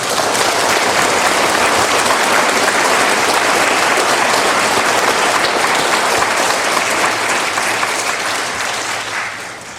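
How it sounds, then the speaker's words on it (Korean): A congregation applauds at a Christmas night Mass, a loud, dense and sustained wave of clapping from a large crowd that fades slightly near the end. "축하하고 감사하는 마음으로 이분들께 큰 박수 한번 드립니다."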